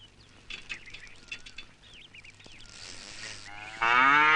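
Faint bird chirps at first, then a loud, close cow moo bursts out and holds to the end.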